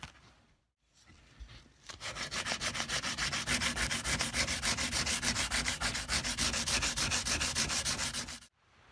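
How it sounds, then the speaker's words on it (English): Fine grit sandpaper buffs the wooden edges of a cigar box guitar in fast, even back-and-forth strokes, close and steady for several seconds, after a couple of brief scuffs. "what I like to do is buff these edges with some fine grit sandpaper"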